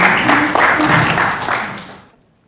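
An audience at a Bawaslu election-dispute information event in South Kalimantan claps to welcome official Rahmat Bagja: a short, dense burst of applause that thins and fades away after about two seconds.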